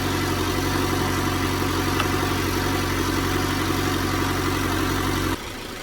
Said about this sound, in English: I'm gonna let it idle for a minute